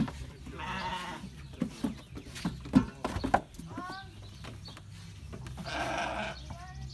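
4-H lambs bleating after being separated in a backyard, with two long, loud wavering bleats at the start and end, scattered shorter calls and a few knocks in between.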